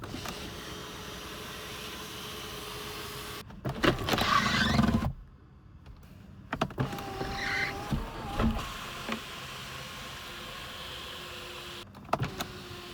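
Car sunroof motor opening, a steady mechanical whir heard close inside the cabin, with brief louder bursts of movement and clicks before and after.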